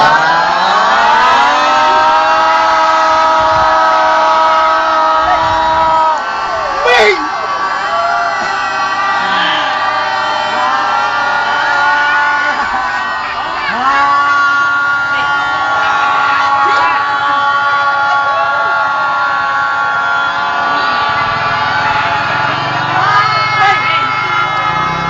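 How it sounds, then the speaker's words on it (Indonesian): Group of people shouting together in a voice release exercise at a broadcast and journalism training session, a sustained loud chorus of voices with rising and falling yells and background noise. "mau habis keluarkan dengan berteriak ini untuk pembebasan suara"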